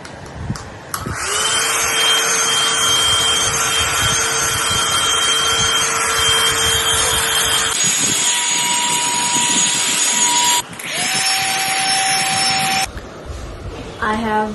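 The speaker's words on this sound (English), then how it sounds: "let's start the blow dry process, and here it goes." A Philips 1000 watt hair blow dryer runs with a loud, steady whine and rushing airflow, cutting off and switching settings a few times, each change shifting its pitch.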